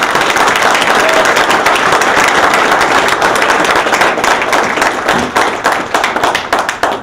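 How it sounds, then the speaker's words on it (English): Banquet audience at a university athletic hall of fame induction giving a loud round of applause for Pete Fowler, dense close clapping that thins into scattered individual claps near the end. "a round of applause"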